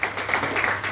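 Audience clapping at a product talk by a company director, a brief, dense burst of applause filling the whole moment at steady loudness with faint voices underneath.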